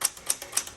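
A 1967 Super Sterling manual typewriter clacks in a quick, even rhythm, four or five crisp keystrokes landing close and clear with no talk.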